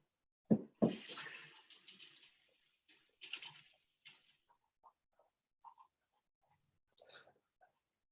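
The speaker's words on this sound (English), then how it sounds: "I'm going to wash my hands" Hands washed under a running kitchen tap: a short burst of splashing water up close, then scattered faint drips and light clinks in an otherwise quiet room.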